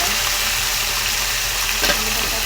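Chopped tomatoes fry in a hot pan with a steady, loud sizzle. One brief stir or clatter breaks in near the end.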